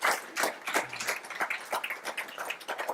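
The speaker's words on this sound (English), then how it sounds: "Give him a round of applause" A small audience applauds after a presentation. The clapping is brief and uneven, with scattered individual claps that rise quickly and then thin out, and no one speaks over it.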